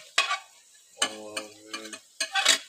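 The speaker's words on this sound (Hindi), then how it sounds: "अब जो है वो हम प्याज डाल रहे हैं बीच में।" Onions go into a pan of almost-cooked chicken: a soft frying sizzle under several sharp, ringing scrapes and clanks of a spoon stirring against the pan, close and fairly loud, with no voices.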